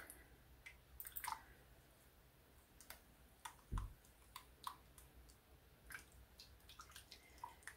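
Soap-saturated raw wool locks are dipped and squeezed in a basin of rinse water, giving faint, close squelches, soft splashes and scattered drips with no talking.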